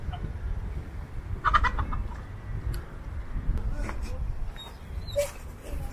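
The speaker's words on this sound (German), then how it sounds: "ist das ein Truthahn?" A turkey gobbles and clucks among other farm birds at an animal enclosure in Mendoza, with short bird calls rising over outdoor background noise and people talking nearby.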